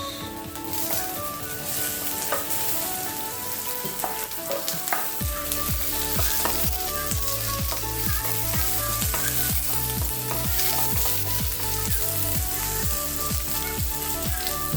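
Onion fries in a pan for a budget Filipino alugbati and tuna dish, a loud, constant, crackling sizzle running throughout with a few louder spatters and scraping stirs.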